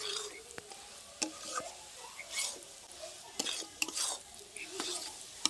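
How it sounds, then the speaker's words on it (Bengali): Chana dal is stirred in a pan with sugar syrup for laddu, making quiet, irregular scrapes and light clinks of the spoon against the pan over a faint hiss. "দিয়ে আমরা ভালোভাবে এটা নাড়তে থাকবো।"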